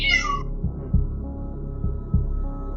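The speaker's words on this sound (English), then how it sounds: "he could still hear his cat meowing at the door for hours" A cat gives a short high meow at the start, followed by a low rhythmic throbbing hum with soft repeated thuds.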